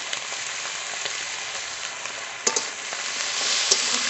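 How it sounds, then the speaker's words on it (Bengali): Spices with salt and turmeric frying in a pan, a dense steady sizzle close up, with a couple of light scrapes and knocks from stirring. "একটু কষিয়ে নেব।"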